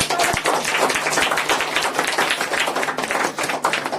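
A congregation at a New Year's Eve crossover night church meeting claps along, close, sharp hand claps in a quick, roughly steady rhythm over a busy background of voices.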